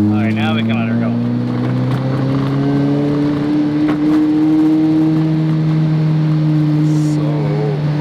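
2024 Lamborghini Revuelto fitted with a performance exhaust, its engine holding a loud, sustained drone that rises slowly in pitch, with people talking over it.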